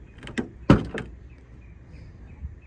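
A Nissan 350Z's car door is worked open, giving a few sharp mechanical clunks and a loud latch release in quick succession, followed by quieter handling noise.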